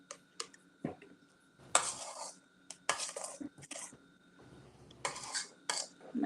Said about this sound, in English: I want to get everything off the sides right quick. My trusty little spoon I'm using.